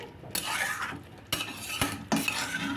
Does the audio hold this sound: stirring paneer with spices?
yes